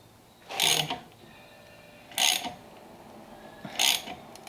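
A wheel puller being ratcheted tight on a hot rod wheel, three separate bursts of rapid metallic ratchet clicking spaced about a second and a half apart, close and clear.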